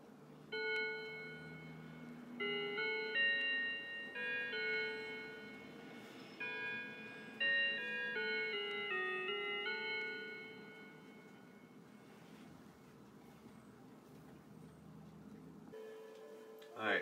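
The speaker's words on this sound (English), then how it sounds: "here's the quarter till Ave Maria chime." A Howard Miller Langeland mantel clock plays its quarter-hour Ave Maria chime, a slow sequence of clear, ringing bell tones that overlap and decay over about twelve seconds, close and fairly quiet, with a soft knock at the end.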